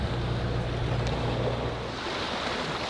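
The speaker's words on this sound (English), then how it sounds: "We got some wind." Steady wind rushing over open sea while sailing a boat, a continuous broadband roar with surf and wind buffeting the microphone, a low steady hum underneath, no talking.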